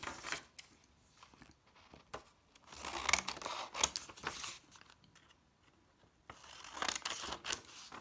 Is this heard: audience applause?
no